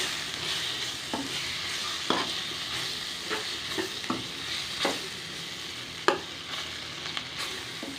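Steady oily sizzling of dried fish frying in a hot pan, with occasional scrapes and clinks of a spatula stirring, close and continuous.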